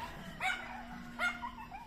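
Several dogs playing together give two short, sharp barks about a second apart, close by, with a faint whine or yip between them and no talk over them.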